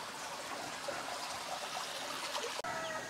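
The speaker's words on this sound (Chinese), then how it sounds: "这条小溪流的水啊，就是从山间流下来的" Water from a mountain stream trickles steadily past village houses in the hills of western Hunan, a continuous soft babble with no talk.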